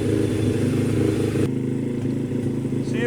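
A Chinese pit bike fitted with a new cam runs close by, its small engine putting out a steady, buzzing, slightly clattery drone.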